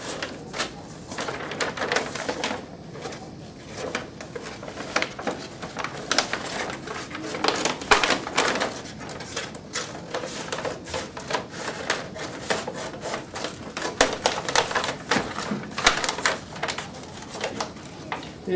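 Paper bag book cover being cut around all four sides of its bottom, a steady run of scratchy snipping and rubbing close by, continuous with no talking.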